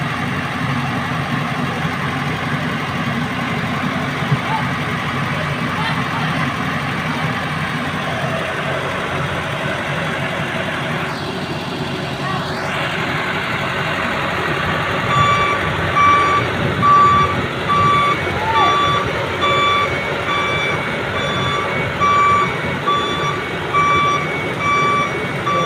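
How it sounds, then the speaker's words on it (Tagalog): Deep well drilling rig truck engine rumbling steadily as it arrives, then a loud repeating reversing beeper sounds at even intervals over the heavy idling engine. "Nakatungtong na ang kanilang sasakyan pambutos ng lupa o ang kanilang makina."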